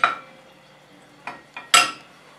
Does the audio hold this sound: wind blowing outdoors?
no